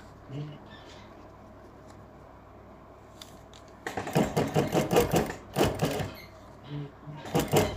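A sewing machine stitches a Punjabi collar, starting after a quiet stretch with rapid mechanical chattering in loud bursts that stop and restart. A voice talks faintly under the stitching.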